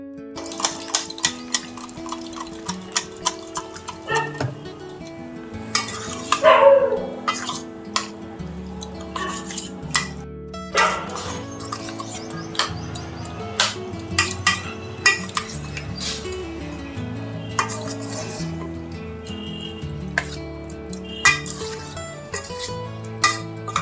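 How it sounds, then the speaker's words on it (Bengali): Chicken being mixed and marinated in a bowl for a Bengali sauce chicken dish, with steady clinks and scrapes of utensil against the bowl, close and busy, with no talking. "এবার আমি সব কিছু খুব ভালো করে ম্যারিনেট করে নিচ্ছি।"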